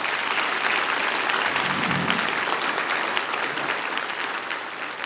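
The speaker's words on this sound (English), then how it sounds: "I very much agree with that applause." Audience applause following a lecture on the Spitzer Space Telescope in a theater, a dense steady clapping that fills the hall evenly and holds for several seconds without voices on top.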